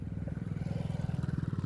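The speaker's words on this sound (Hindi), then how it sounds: "पीछे से एक बाइक आ रही है गाइस" Motorbike coming up from behind on a dark road at night, a steady, pulsing engine putter at moderate volume that grows slightly stronger as it nears.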